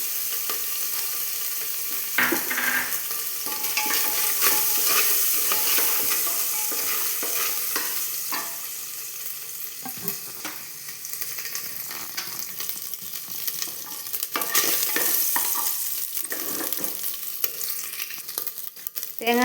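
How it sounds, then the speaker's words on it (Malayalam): A handful of coconut pieces fry in a teaspoon of hot ghee, giving a steady crackling sizzle with occasional stirring scrapes, close and continuous with no talking. "നമുക്കതിലേക്ക് 1 പിടി തേങ്ങാക്കൊത്ത് ചേർത്തൊന്ന് വറുത്തെടുക്കണം"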